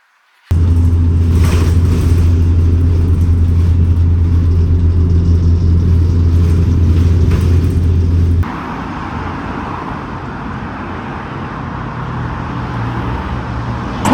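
A car drives along a road on a detour near an IKEA in London, giving a steady loud interior rumble of engine and tyres that drops to a quieter, smoother cruise midway, with no talking.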